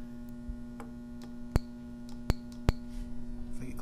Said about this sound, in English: you can hear the speaker popping as the current turns on and turns off